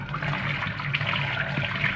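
Fresh coriander leaves are swished and rubbed in water to wash off soil, a steady close splashing and trickling that runs without a break.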